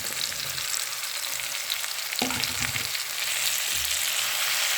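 Potatoes roast in a pan with a loud, continuous hiss and crackle. Faint stirring scrapes come through around the middle, and no one speaks.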